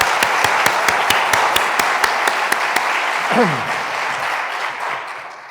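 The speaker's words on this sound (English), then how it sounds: "Can we have another round of applause for Jamie Stevenson and Senator Rachel Blumenthal?" Crowd at a Darien bicentennial opening ceremony gives a round of applause, with one distinct rhythmic clapper standing out over the dense clapping before it fades, a brief voice heard near the end.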